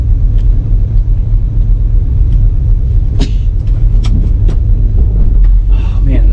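A 1974 Plymouth, revived after sitting for 20 years, driving along: a deep, loud, rumbling cabin drone with sharp clicks and knocks scattered through, and a voice talking over it.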